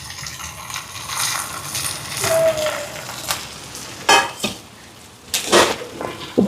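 Peanuts go into a pan of softened onion and tomato for a Jaffna-style peanut chutney and are stirred, giving intermittent clattering rattles and scrapes of spoon on pan, with a few louder knocks toward the end.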